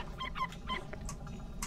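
Small puppies in the Vintage Story survival video game whimper and yip in several short, high, wavering cries close by, over a low steady background hum.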